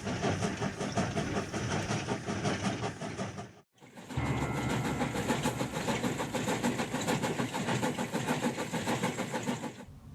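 A train engine passes close by, a loud, continuous rumbling roar with one brief break partway through before the heavy mechanical noise resumes and carries on to the end.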